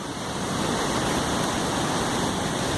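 Gudbrandsjuvet waterfall in Norway roars as a steady, dense wash of rushing water, loud and close throughout with no pauses.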